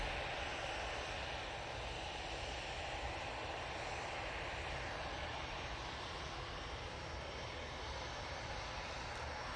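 Emirates airliner engines on the ground at Manchester Airport after pushback: a steady, broad jet roar from some distance that holds unchanged throughout, with no talk.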